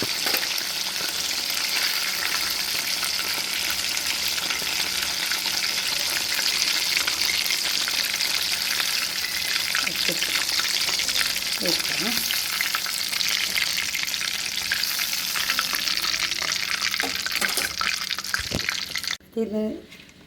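Chicken pieces for broasted chicken fry in hot oil with a steady, dense sizzle that runs continuously, broken by a few stirring clinks before it cuts off near the end.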